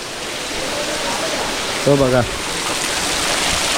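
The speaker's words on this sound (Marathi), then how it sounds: "त्याच्यापेक्षा जबर पाऊस लागायला सुरुवात झाली आहे" Heavy rain falling steadily in a Konkan village, a dense, even hiss throughout, with a short spoken phrase heard briefly above it.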